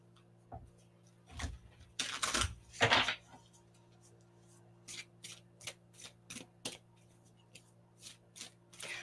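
Tarot cards being shuffled in quick riffling bursts, loud flurries near the start then a run of shorter, evenly spaced card flicks, with no talk over them.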